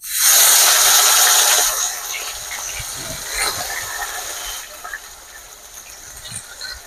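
Paste of onion, ginger, garlic, tomato and green chilli hitting hot oil in a kadhai, a loud burst of sizzling hiss at first that settles into a steady, softer frying crackle with scattered pops.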